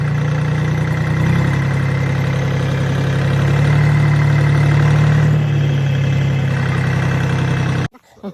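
A loud tractor diesel engine drones steadily at close range while pulling a borewell motor out, holding a heavy low hum for several seconds before cutting off abruptly near the end.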